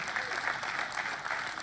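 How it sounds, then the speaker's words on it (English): Audience at a tech product presentation applauding, a steady wash of clapping from many hands that holds evenly throughout, fairly loud and close with no clear speech over it. "Can we get some applause?"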